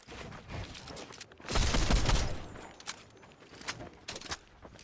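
Fortnite gunfire crackles in short bursts, with a louder cluster of shots in the middle and scattered single pops after it, moderately faint and with no talking.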